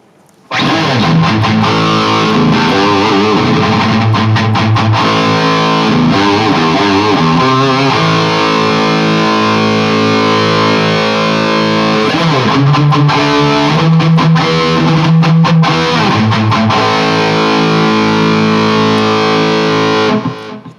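Heavily distorted Schecter Banshee electric guitar through an ADA MP1 preamp and ENGL 2x50 EL34 power amp plays sustained chords and riffs, loud and dense, with no voices.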